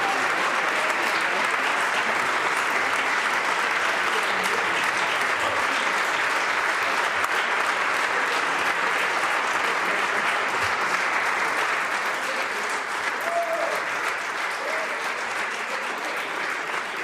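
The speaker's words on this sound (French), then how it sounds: "les députés ont le droit d'applaudir, mais s'il vous plaît, on ne tape pas sur les bureaux" Deputies of the National Assembly of Québec applaud steadily for the whole stretch, a dense, even roar of many hands clapping in a large chamber, with no pauses and no talk standing out above it.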